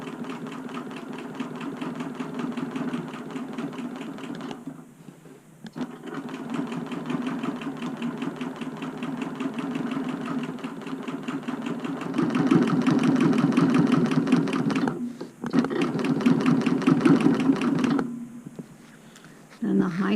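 A BERNINA Q 24 longarm quilting machine stitching in the ditch along a ruler, its steady motor hum running continuously near and fairly loud, with brief pauses around five and fifteen seconds and a louder, faster stretch after twelve seconds.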